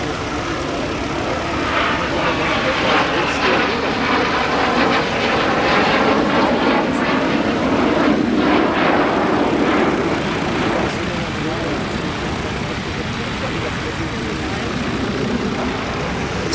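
A continuous, loud jet roar rumbles and hisses as a Messerschmitt Me 262 jet fighter passes overhead at a vintage aircraft meet at Hahnweide, with people talking faintly beneath the engine noise.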